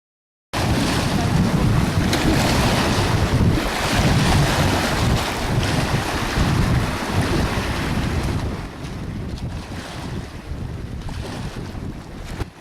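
Cold wind buffets the microphone on the Pangong Tso lake shore in Ladakh, a loud continuous roar with gusting rumble that eases slightly toward the end.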